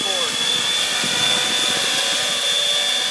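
X-Class FPV drone hovering, a loud steady high-pitched propeller whine and buzz close by throughout, with a constant tone and voices talking over it.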